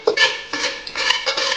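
White and black sesame seeds being stir-fried in a pan: quick scraping and clinking strokes of a utensil against the pan, in short uneven bursts, close and fairly loud.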